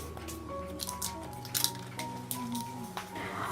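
Gram flour and milk mixture, still hot, is spread and levelled in a dish, making soft wet squishing and scraping sounds over a steady background hum.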